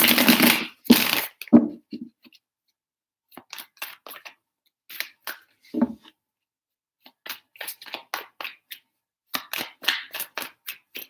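Tarot cards are shuffled in bursts of crisp riffling and snapping, several separate rounds with short silent gaps between them, close and clear.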